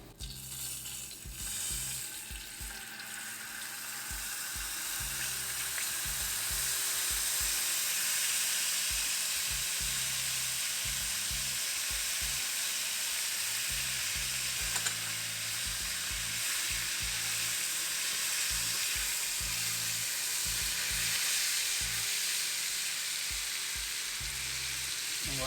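Garlic sizzles in hot oil for dal tadka, with a continuous, even hiss of frying that swells a little after the first few seconds and then holds steady, close and uninterrupted by speech.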